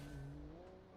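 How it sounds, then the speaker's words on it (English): Tires squeal as a car brakes hard in a BeamNG driving game, a single sustained screech under engine rumble that fades slightly over a second. "Okay, we're braking."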